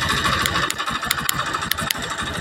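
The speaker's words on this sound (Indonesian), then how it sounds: "tanpa puli depan suara tetap kasar Mas." Honda Beat FI scooter idling roughly without its front pulley, heard up close: a continuous uneven engine chug with irregular sharp ticks and clatter scattered through it, no voices.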